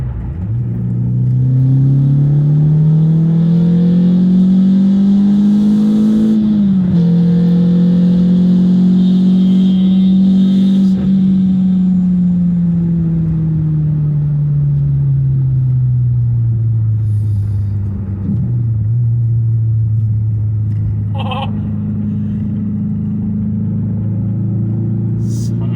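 A Renault Clio RS 172 engine rises steadily in pitch as it revs and accelerates, loud and close, easing off briefly before climbing again over a long pull.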